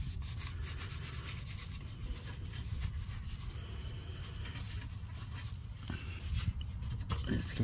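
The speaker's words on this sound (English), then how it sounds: "Wipe off all the excess oil so you can see if there's any leaks." A rag wipes excess oil off a freshly hand-tightened oil filter on a 2016 Nissan Versa during an oil change, giving a steady close rubbing and scrubbing that runs throughout, with a few sharper knocks near the end.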